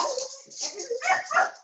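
Several dogs bark and yip in quick irregular bursts, fairly close and loud, with some whimpery high notes mixed in during an online workshop call.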